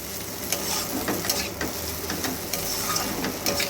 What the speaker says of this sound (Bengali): গোলমরিচ গুঁড়ো দিয়ে আবার এর সঙ্গে নাড়িয়ে মিশিয়ে দিলাম